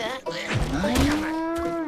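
A cartoon cow from the animated series Atomic Puppet lets out one long, loud moo that swells and holds steady for nearly two seconds.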